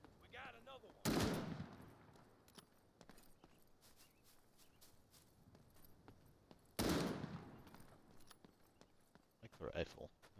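Sharp rifle shots in the video game As One We Survive, two loud cracks several seconds apart plus a fainter burst near the end, over a low murmur of background game noise.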